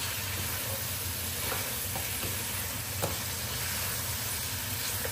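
Green chillies, garam masala and turmeric fry in a pan of mutton karahi, giving a steady close sizzle with scraping stirring strokes and a few sharper clicks, with no talking.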